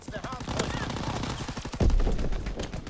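Thompson submachine gun firing in an online shooter, loud rapid bursts of automatic fire close by, with voices talking over the shooting.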